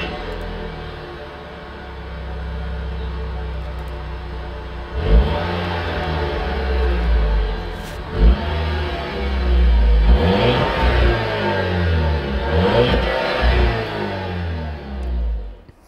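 An inline four-cylinder car engine idles steadily, then revs up in several loud surges with falling pitch between them, close and clear with no talk.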